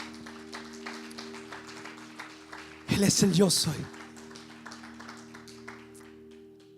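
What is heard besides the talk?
congregation clapping loudly for God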